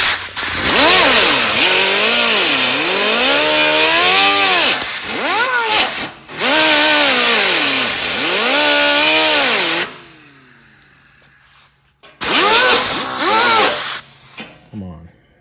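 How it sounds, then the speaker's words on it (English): A black angle grinder works on an aluminum truck bed, its loud motor whine rising and dipping under load in long continuous passes, briefly cutting out and spinning down before starting again. "I'm going to grind it just a little bit. My black grinder laying here."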